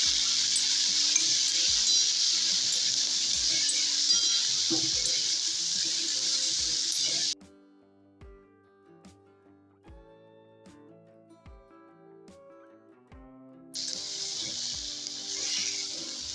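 Onion, capsicum, turmeric and salt fry in a pan for potato shaak, a close sizzle with stirring scrapes that drops away midway to quiet clinks and taps, then the frying hiss returns.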